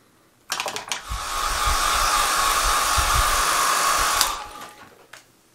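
Hair dryer blowing over a watercolor painting of a galaxy: a click as it switches on, then a steady, loud whooshing hum for about four seconds before it cuts off, up close with faint handling sounds.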